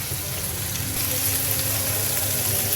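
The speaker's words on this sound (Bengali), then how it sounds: "রসুন দিয়ে দিচ্ছি মরিচ দিয়ে দিচ্ছি কাঁচামরিচ চিংড়ি মাছ দিয়ে দিচ্ছি এগুলো ভেজে নেবো" Garlic, green chillies and shrimp frying in oil, a dense, steady crackling sizzle heard close and continuous with a low background hum and no talking.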